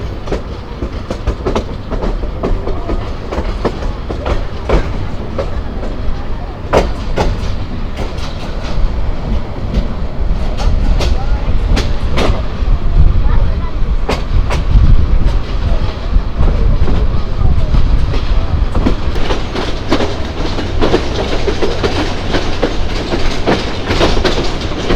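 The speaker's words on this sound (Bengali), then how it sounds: "তো চলুন, এখন হয়তো ট্রেন ছেড়ে দিবে" The Tista Express passenger train rumbles along the rails near Mymensingh, a loud, steady roar with a rhythmic clickety-clack of wheels over joints throughout, heard close from on board.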